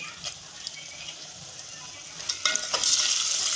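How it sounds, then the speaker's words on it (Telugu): Spices and onion stirred and frying in a pan over a medium flame while cooking bottle gourd dalcha, a steady soft sizzle with occasional scrapes that grows louder and brighter toward the end. "వేసి కలపాలండి మీడియం ఫ్లేమ్లో పెట్టి కలపాలి"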